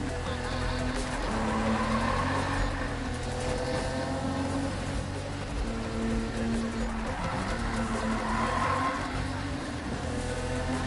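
Car tires squeal and skid as a car slides around a corner in a PS4 racing game, a steady loud engine drone running underneath with two swells of screeching.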